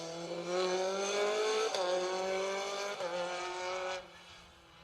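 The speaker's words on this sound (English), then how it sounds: "As the Talbot Sunbeam, car 91." A Talbot Sunbeam rally car, number 91, powers along a stage at the Western Isles Hotel, Loch Tuath, its engine a loud, steady harmonic drone that lifts and drops with two gear changes before easing off near the end.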